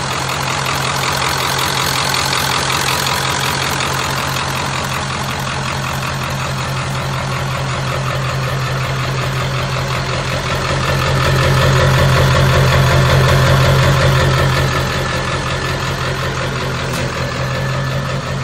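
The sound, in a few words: diesel truck engine idling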